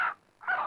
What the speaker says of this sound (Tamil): அந்த கோழி யார் வீட்டு சொந்த கோழி?